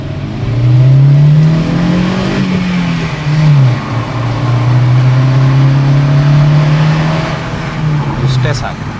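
A Honda City Gen 3 i-VTEC petrol car accelerates hard through the gears, its engine note climbing steadily and loudly with a brief dip at a gear change, heard close and continuous.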